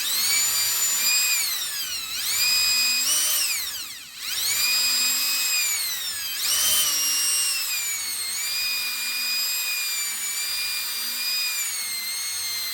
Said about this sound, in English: it made it really easy for the drill bit to pop into place